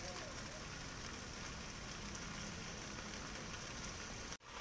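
Beef sears in an electric pressure cooker with a steady, dense hiss of sizzling oil, heard close and continuous until it cuts off abruptly near the end.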